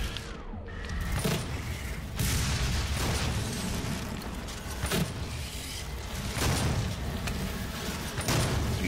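Weapon fire in Doom SnapMap, a fast weapon against Hell Knights, heard as a series of sharp bursts and booming blasts spaced a second or so apart over a dense, steady wash of game noise.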